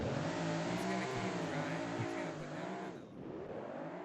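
A short course race car throttling out at full power, its engine roaring loud and sustained with rising and falling revs, dipping briefly before surging again.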